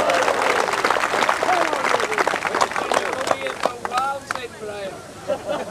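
Spectators at the 1986 Top Crown bowls final break into steady clapping, a moderately loud patter of many hands with a commentator's voice running over it.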